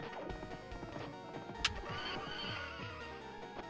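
Horse neighing in a Capcom beat 'em up video game, a faint whinny amid game effects and music with a sharp crash near the middle.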